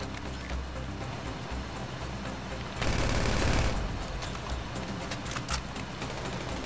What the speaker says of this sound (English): I'm using the micro SMG, dude.